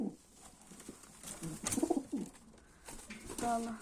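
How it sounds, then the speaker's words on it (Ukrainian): Soft pigeon cooing, a few low throaty coos in a short cluster, with faint background noise and a brief murmur of voices. "Це голубка водночиста"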